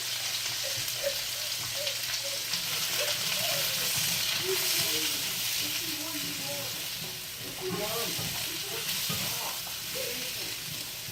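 Peppers and onions sizzle and fry in a stainless steel wok, a loud constant hiss with scattered crackles and stirring clatter throughout, close and unbroken.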